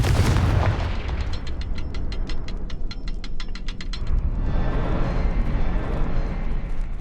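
A blasting spell in a Harry Potter video game sets off a heavy explosion with a booming low rumble. A rapid crackling burst follows, then a lingering roar. It is loud and fills the whole moment.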